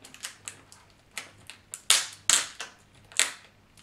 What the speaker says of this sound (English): what you want to do is just peel that tape off